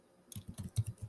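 Keys on a computer keyboard are tapped in a quick irregular run of about eight soft, close clicks while an email is typed.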